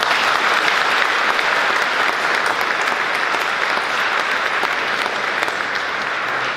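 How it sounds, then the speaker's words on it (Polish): Sustained, dense applause from a large audience at an awards gala for top Pomeranian high schools and technical schools, steady and even, alone with no talk. "Wielkie brawa!"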